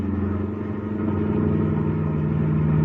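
A car engine revs and pulls steadily under acceleration in a radio drama chase, a continuous low rumble that builds slightly in loudness over a few seconds, with no voices.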